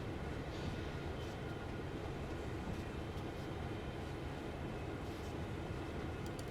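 A CN freight train in Train Sim World 3 rumbles steadily through a blizzard on the Oakville Subdivision, a dense, unbroken roar of wheels and engine with no voices.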